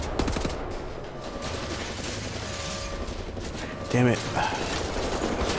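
Enemy gunfire rattles steadily through a firefight in Wolfenstein: The New Order, a dense, continuous stream of rapid shots with a louder burst near the end. Someone speaks briefly over it.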